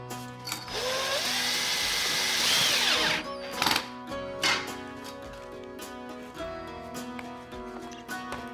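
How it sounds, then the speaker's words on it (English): A power drill bores through a small washer hole while assembling an Otter XT Lodge fish house, its motor whining up for about three seconds, then short bursts and spins follow, close and loud. "The hole in the washer is pretty small, so you gotta drill through that too."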